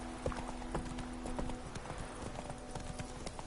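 Roach the horse trots along in The Witcher 3, hooves clip-clopping in a steady, even rhythm close by, with a soft outdoor ambience beneath.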